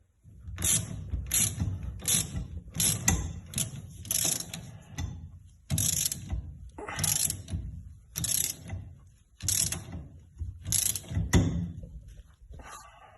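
A wheel stud is pressed into a Chevrolet hub by tightening with a 19 mm socket, producing close bursts of rapid ratcheting clicks and mechanical grinding, repeated in short cycles with brief pauses between.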